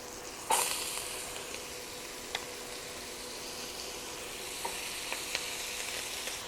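Mirepoix vegetables hit a hot soup pot and sizzle with a steady, soft frying hiss, with a few scraping stir sounds scattered through and no voices.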